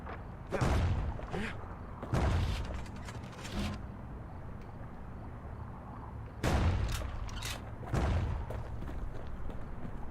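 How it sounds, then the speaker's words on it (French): Explosions in the action video game Bastion go off in two clusters of sharp booming bursts with rumbling tails, fairly close and loud, separated by a quieter stretch of low game ambience. "Ah oui, ça explose, d'accord."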